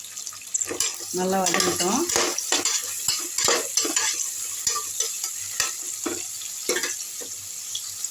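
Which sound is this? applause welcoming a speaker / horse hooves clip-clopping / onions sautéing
onions sautéing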